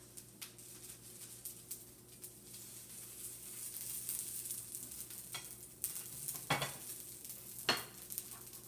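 An okonomiyaki pancake sizzles softly in a pan, then gets lifted and moved to a plate, with faint frying hiss broken by a few sharp scrapes and taps of utensil on pan.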